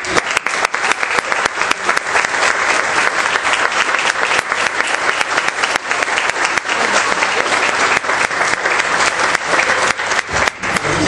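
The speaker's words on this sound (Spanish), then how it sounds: "Le pedimos otra fuerte aplauso" Strong, sustained applause from an audience at a bicentennial history event in Santa Fe, dense and loud with sharp individual claps standing out throughout.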